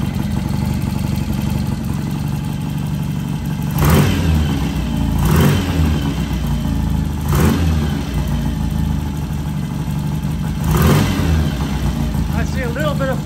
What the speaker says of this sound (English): The bike sounds very good.